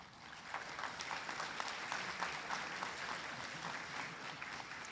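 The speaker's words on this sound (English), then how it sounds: "please give her a round of applause, Andrea Duarte" A commencement ceremony audience applauds for a department chair and graduation reader, a steady, even crowd of clapping hands heard from a distance, sustained throughout with no speech.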